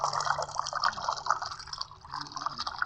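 Paint pouring in the mobile game Colour War 3D, a steady liquid gushing and splashing stream with small drip-like bursts, continuous and fairly close throughout.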